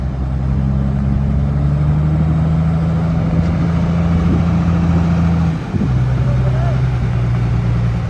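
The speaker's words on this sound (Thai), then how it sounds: "กับรถไถลุงทงนะครับนี่" A tractor engine runs steadily with a low, droning hum, briefly dipping in pitch before settling back into a constant idle.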